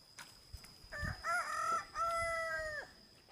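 A rooster crows loudly and close by in one long drawn-out call near a rice-planting field, with a few short clucks and rustling before it and no one speaking.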